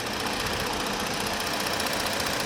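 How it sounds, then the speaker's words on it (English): A 3.7-liter engine in a 2019 Ford Explorer Police Interceptor AWD idles close by, a dense steady rumble with a faint ticking pulse throughout and no voices. "This is the engine of the vehicle."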